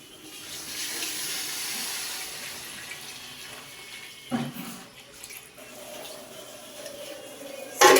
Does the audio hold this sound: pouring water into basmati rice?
yes